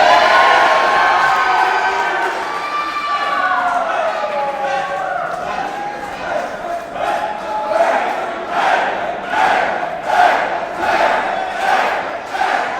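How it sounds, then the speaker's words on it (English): Crowd at a live wrestling show in Nashville chanting for wrestler Jackal Stevens, a loud rhythmic chant of repeated syllables rising from the audience, with an announcer's voice talking over the opening seconds. "He's got the crowd chanting behind him"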